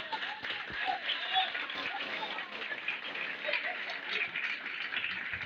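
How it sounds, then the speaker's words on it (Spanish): A church congregation at a Spanish-language sermon claps in a soft, distant patter, faint and diffuse, with murmured voices underneath. "Aplauda la gloria de Jehová."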